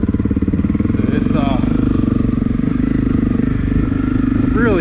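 A Honda CRF250 Rally motorcycle's engine pulses steadily and loudly up close as it is ridden, with a couple of short revs rising above the even thrum.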